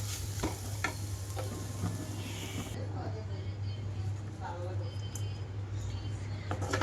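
Coriander being stirred into a pan of beetroot fry with green chilli, a continuous soft scraping and stirring with faint sizzle over a steady low hum, with speech-like sounds present.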